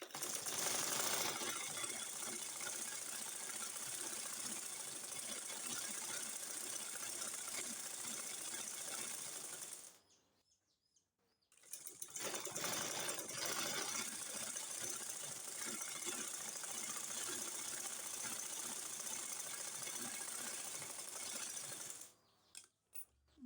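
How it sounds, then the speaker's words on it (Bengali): A sewing machine stitches a maxi dress in a long, steady, whirring run, stops for about a second, then runs again for another long stretch before a few short bursts at the end. "এখন আমি এদিক দিয়ে আরেকটি সেলাই দিয়ে দিব"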